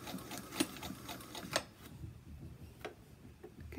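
A sewing machine backstitches through the fabric of a bowl cozy in a quick, close run of rhythmic clicking stitches, pauses, then gives a couple of single ticks.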